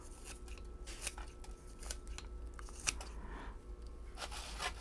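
Shears snip through the corners of a catalpa tree's root ball outdoors, a series of sharp, crisp cuts and tearing root sounds scattered over steady low background hum, close and fairly quiet, with no talking.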